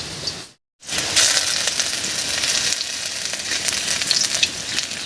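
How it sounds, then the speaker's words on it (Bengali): Grated ginger fries in hot oil with dried chillies, bay leaves, fennel and cumin for a village-style dal, producing a loud, close, continuous sizzle after a short gap near the start. "এবার এর মধ্যে দেবো গ্রেট করা আদা"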